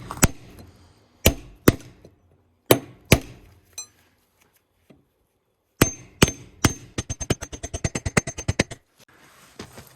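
A hammer drives a wooden plug out of a timber-frame deck, with sharp, close strikes landing singly and in pairs, followed by a fast run of about a dozen rapid blows.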